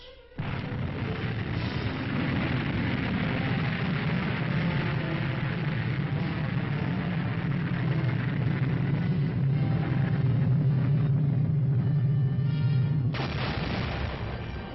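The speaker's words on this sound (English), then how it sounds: "The Army fires Honest John. And La Crosse." Army Honest John and La Crosse missiles being launched, a sustained roaring rush of rocket exhaust lasting over ten seconds, loud and distant-sounding, with a brief cut in the noise near the end and no voices.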